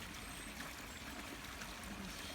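Water pours from old piping into Yellow Creek in Toronto, a continuous, even rushing and trickling wash that stays steady and fairly quiet throughout, with no voices.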